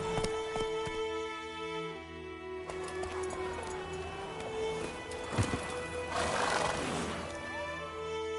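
Roach, a horse in The Witcher 3 game, gives a neigh and trots with clip-clop hooves over a steady game music and ambient bed, fairly close, with no talk.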